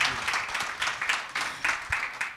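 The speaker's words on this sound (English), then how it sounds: "how about a big round of applause for our panelists?" Applause for panelists at a cannabis industry and policy summit in Wisconsin: a short burst of scattered hand clapping from an audience, moderately loud and fairly even throughout.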